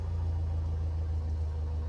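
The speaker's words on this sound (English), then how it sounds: "she's going to be idling about sort of 600 to 800" A small aircraft piston engine idles steadily at roughly 600 to 800 rpm after a magneto check, a low, even throb held close and loud throughout with no talk.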